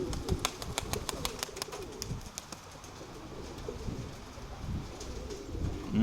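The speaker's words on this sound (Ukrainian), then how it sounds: "виходить, що десятка голубів більш-менш разом тримається" Pigeons coo softly amid rapid clicking and clattering sounds, with low murmuring calls repeating throughout at moderate distance.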